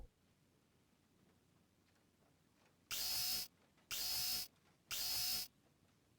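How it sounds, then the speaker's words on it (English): A dentist drill in the video game Deponia whirs in three loud, even bursts of about half a second each, separated by short quiet gaps, with nothing else audible. "And with this, we could take the dentist drill."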